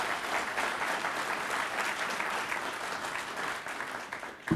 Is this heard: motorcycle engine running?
no